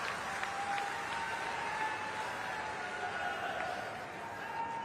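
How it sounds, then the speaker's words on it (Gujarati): An audience applauds at a public event where a Union Minister launches a 50,000 recharge wells project in Banaskantha, with sustained, fairly even clapping from a crowd at moderate distance and faint voices mixed in. "એમના માટે જબરજસ્ત તાળીઓથી એમનું સ્વાગત કરીએ."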